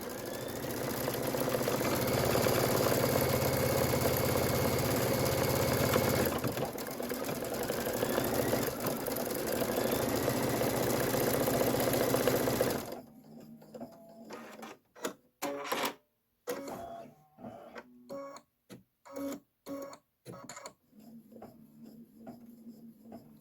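An embroidery sewing machine stitches out a design, a steady fast mechanical whirring for several seconds that then turns to short, irregular bursts of stitching separated by pauses.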